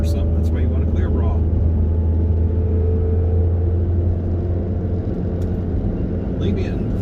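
A 2007 Pontiac Solstice GXP engine running in third gear, a steady low rumbling drone with road noise heard from inside the moving car, loud and continuous, with a few faint voice-like sounds over it.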